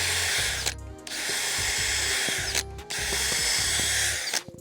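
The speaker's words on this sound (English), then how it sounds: "And drill that out, and do it the whole way" A power drill bores a screw hole through an eye strap in loud bursts, whirring hard with short pauses between runs and a faint ratcheting click near the end.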